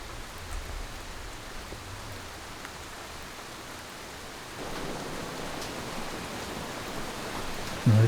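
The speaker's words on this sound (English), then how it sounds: "Big rain." Heavy rain pours down at a campsite with a camper van and a private outdoor onsen, a steady broadband wash that swells louder partway through, with no talking.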